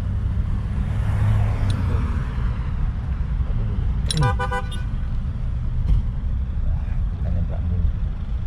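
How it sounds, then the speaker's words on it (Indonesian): Busy street traffic, with cars and motor vehicles rumbling steadily close by and a burst of car horn honking partway through, followed by a shorter honk later; no talking. "Banyak mobil."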